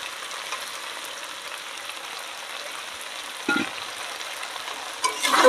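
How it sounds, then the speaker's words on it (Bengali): Fried cauliflower being stir-fried in a spice masala for a rui fish curry, a steady soft sizzle with a couple of louder scraping stirs near the middle and end, close and without talk. "তো কপি দিয়ে সুন্দর করে নেড়ে নেব, মশলাটা ভালো করে মিক্স হোক।"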